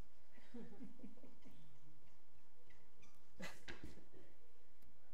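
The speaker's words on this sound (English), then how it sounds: "Sounds like one of those animal dogs." A dog whimpers and yips in a few short bursts at moderate distance, with faint background activity and no clear speech over it.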